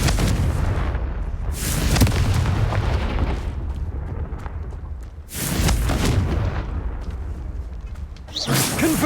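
Confringo fire blast spell cast in Hogwarts Legacy, loud booming blasts with whooshing bursts, the first near the start and another around five seconds in, over rumbling game noise.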